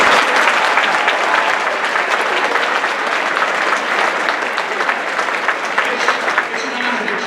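Audience at a high school Veterans Day program applauding for the Bengals, a dense, steady burst of clapping from a large crowd in an indoor hall, loud and sustained throughout.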